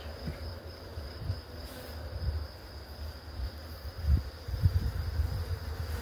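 A bee buzzing under a mesh net, a steady close insect drone with slight wavering in loudness, heard alone without talk.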